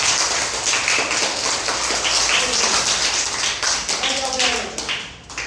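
An audience at a school ceremony applauds students who won competition places, a loud continuous patter of many hands, with voices mixed in beneath the clapping.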